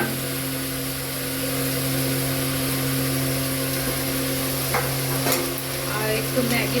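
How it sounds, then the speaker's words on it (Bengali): Spices like chili, coriander and cumin powder sautéed with boiled potato in a pan for egg cutlets, a steady sizzle with occasional utensil scrapes under a constant low hum, no talking. "আর জিরে গুঁড়ো দিয়ে ভালো করে কষিয়ে নেব।"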